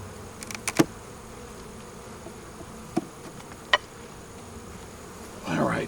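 Honeybees on a frame of brood with nurse bees, a soft steady buzz of the hive under a few sharp clicks and knocks of handling, rising louder near the end.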